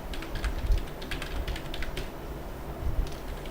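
Someone typing code on a computer keyboard, a quick irregular run of light close key clicks and taps, alone without any voice.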